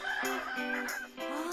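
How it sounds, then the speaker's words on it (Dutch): A rooster crows loudly and close by, its drawn-out call rising and falling over about a second and a half, with a brief dip before the final note, alone without any talk. "De haan heeft honger."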